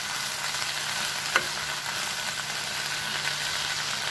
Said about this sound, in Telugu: ఇలా కలుపుతూ బెండకాయ వేగే వరకు ఫ్రై చేసుకుందాం